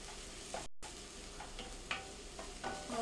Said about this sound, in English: after you put the rice in, you just basically want to toss it in the oil that you have in the pan